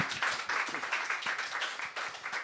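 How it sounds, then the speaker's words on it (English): Audience clapping at a community talk event, a moderate crowd of hands beating in a continuous patter, somewhat soft and roomy, lasting a couple of seconds. "Give yourself a clap, it's really fun."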